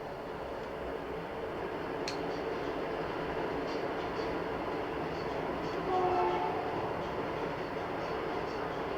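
A train rolls by on a nearby railway line, a continuous low rumble with a short horn blast early on and a swell of clatter toward the end, heard from inside a home kitchen.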